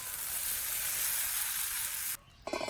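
Thick dosa batter sizzling steadily on a hot pan, a continuous close frying hiss that cuts out briefly near the end before a few clattering sounds return.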